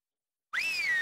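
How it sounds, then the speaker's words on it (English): A game character in Stubbs the Zombie whistles a single sustained, clear tone that starts abruptly partway through and slides gently downward, alone and fairly loud. "Now purse those lips and whistle."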